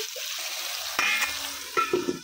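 Ginger, garlic and tomatoes frying in a pan give a soft steady sizzle, broken by a few sharper scrapes and clinks of stirring near the end.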